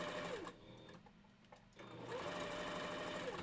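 A sewing machine stitching fur pieces together for a wolf costume head, running loud and close in two bursts with a brief pause between them, with no voices.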